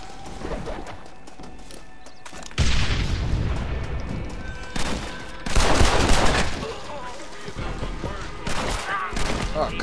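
Gunfire in Red Dead Redemption, in a wooden setting, with several loud, heavy bursts of shots breaking over a steady background. Hoofbeats and horse sounds run through the scene, and no voices are heard.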